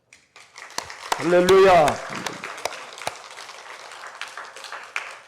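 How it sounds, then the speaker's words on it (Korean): A church congregation claps in scattered sharp bursts around a loud shouted exclamation. The applause then settles into lighter, uneven claps that continue to the end. "지금 우리 하나님께 큰 함성과 박수를 한번 영광 돌려버립시다"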